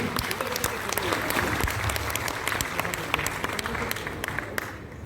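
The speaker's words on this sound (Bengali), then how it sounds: "আমাদের জোরে করতালি সকলে মিলে" An audience at a salon event honoring Habib Ahmed claps steadily, a dense patter of applause held at moderate volume for several seconds before easing slightly toward the end.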